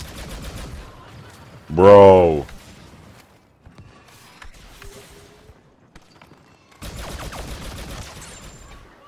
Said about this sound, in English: Yo, is this gun that I'm using trash?